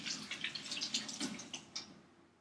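Warm water running from a tap in a kitchen while a frozen orange carrot sorbet is being prepared, soft splashing and dripping in uneven spurts, quiet and close, with no talking.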